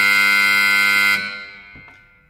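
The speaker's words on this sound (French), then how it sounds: "vous aurez un coup de buzzer long" Long electronic end-of-period buzzer at a handball scorer's table sounds as one loud, steady, harmonic-rich blare for just over a second, then cuts off into quieter room noise.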